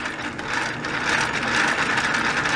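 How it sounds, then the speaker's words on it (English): A DX Build Driver toy belt from Kamen Rider Build has its lever cranked, giving a steady, close ratcheting clatter of plastic gears that runs continuously without pause. "if we turn the lever right here,"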